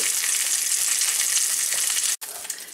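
A steady, loud sizzle of whitetail deer ribs frying in a hot pan, continuous crackling hiss with a brief dropout near the end.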